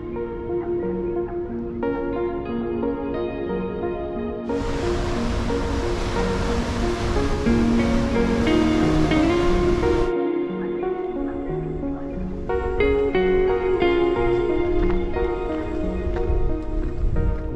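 Steady roar of surf with a louder rushing surge of water midway as a wave forces into a rock pool and creates bubbles, broadband and continuous, with music faintly underneath.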